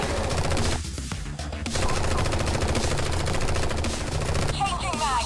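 Machine gun fire in the Strain Tactics video game, a loud, sustained stream of rapid automatic shots that runs almost without pause from start to finish.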